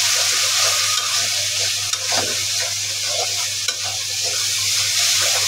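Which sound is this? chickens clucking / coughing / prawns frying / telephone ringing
prawns frying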